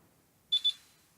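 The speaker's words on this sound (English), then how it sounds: "As you heard, it just started beeping and the check mark flashed." A Schlage Sense deadbolt lock gives two quick, close, high-pitched electronic beeps in a row during setup, clear against a quiet room.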